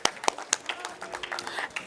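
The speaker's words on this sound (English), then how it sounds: "give him a round of applause, ladies and gentlemen" A thin scatter of hand claps from an audience at an ICT summit awards ceremony, irregular and light, a few sharper nearby claps among fainter ones.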